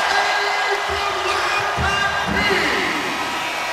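A basketball arena crowd cheers after a dunk in a college game, UCLA at USC. The roar is steady and loud and carries on throughout, with an announcer talking over it.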